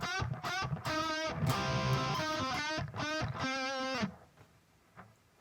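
Distorted electric guitar plays a riff, with loud, sustained chords in a repeating rhythmic pattern that stops abruptly near the end, leaving a faint tail.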